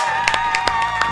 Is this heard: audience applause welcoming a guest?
yes